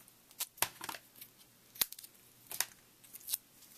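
Scissors cutting black foam tape during papercraft, a handful of sharp, close snips in an irregular rhythm, fairly quiet and with no voice.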